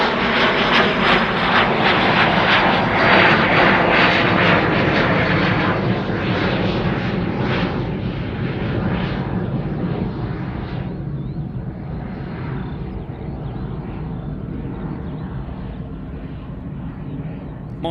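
A United Airlines jet lands on runway 34 right at Sydney Airport, its engine roar loud and close at first, then gradually receding and thinning as the aircraft rolls away.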